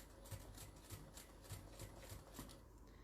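A sewing machine runs unevenly because the foot pedal isn't pressed properly. It gives faint, stuttering bursts of stitching with short gaps between them, heard close and alone.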